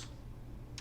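Computer keyboard typing as a formula is entered into a MATLAB script, heard as two or three quiet, brief key clicks spaced apart against a low background hum.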